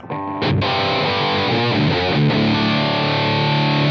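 Electric guitar played through a Fangs high-gain distortion pedal into the free amp in AmpliTube 5, loud saturated chords and notes ringing continuously with thick sustain, heard alone.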